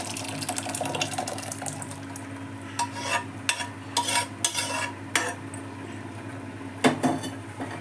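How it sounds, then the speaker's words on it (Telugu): A spoon stirs cooked dal into a pot of simmering vegetables, with scraping and clinking strokes in irregular bursts over a steady low cooking hum. "ఇప్పుడు ఇందులోకి మనం పప్పు వేసేసి చూడండి, పప్పు ఉడికించుకున్న పప్పు."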